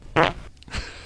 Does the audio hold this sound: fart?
yes